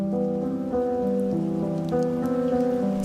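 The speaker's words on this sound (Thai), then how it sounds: "The storm is coming." Storm rain in the Reverse: 1999 video game falls as a steady, dense patter on surfaces. It holds at an even level under a sustained low musical tone throughout.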